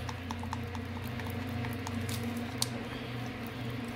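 Resin being stirred in a cup makes soft, faint, continuous squishy scraping with light irregular taps, alone without talk.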